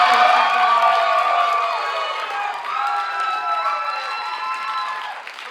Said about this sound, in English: If I may get a quick round of applause for our light person,